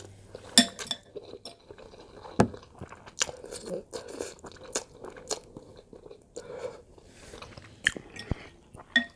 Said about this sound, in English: if it sounds a lot of slurping, it's really not that much